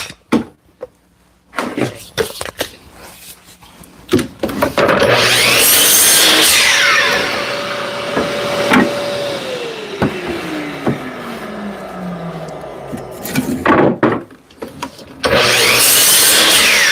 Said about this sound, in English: So I'm gonna cut cauls probably about 25, 26 inches